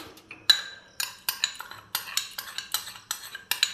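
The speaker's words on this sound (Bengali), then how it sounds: "তো ভালো করে নাড়াচাড়া করে দেওয়া হচ্ছে।" A spoon clinks and scrapes against a pot as milk with sugar is stirred, a run of sharp, evenly spaced taps at close range with no voices.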